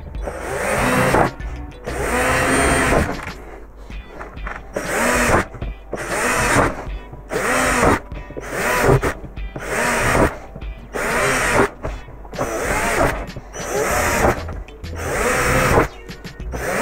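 A power drill with a 7.5 mm bit bores holes into a sled, running in about eight loud, evenly spaced bursts separated by short pauses.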